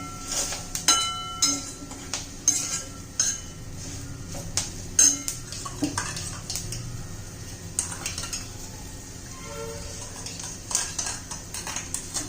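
A spoon scrapes and clinks in a pan as ground cumin, ajwain and fennel powder are stir-fried, giving a string of sharp metallic taps and scrapes at an irregular pace over a quiet background.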